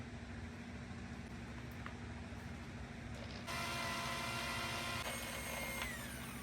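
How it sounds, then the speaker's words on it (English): A steady mechanical drilling drone runs throughout as a drill bores through a BMW M52B30 engine block, growing louder and harsher midway as the bit bites deeper, with a low hum underneath. "Now we are drilling clean through the block."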